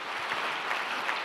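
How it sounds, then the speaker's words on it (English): Brief, steady applause from a university diversity forum audience, a close, even patter of many hands with no speech over it. "Let's give one more round of applause"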